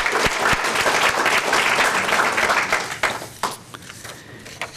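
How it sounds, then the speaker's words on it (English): An audience at a school board meeting claps in a short burst of applause, dense and fairly close at first, then fading into scattered claps over a few seconds. "I think Carla deserves a nice hand of"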